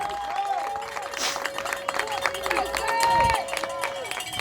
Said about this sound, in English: And that brings life here into the Connecticut State crowd. They love seeing that return.